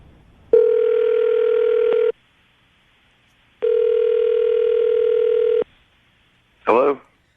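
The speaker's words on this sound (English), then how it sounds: "I'll dial the phone number right now" A telephone dial tone sounds while a call is placed, two long steady tone bursts separated by a pause, then a brief higher electronic blip, clear and close with no talk over it.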